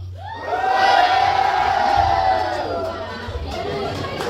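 A church congregation shouts loudly together at a program, a dense crowd roar that swells, holds and then tapers into scattered voices and whoops.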